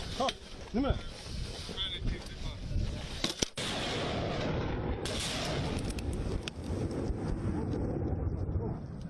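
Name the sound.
Malian army artillery firing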